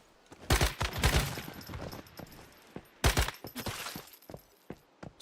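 Sniper rifle shots from The Division 2, two sharp loud cracks with rattling echoes about two and a half seconds apart, followed by scattered smaller impacts and clicks.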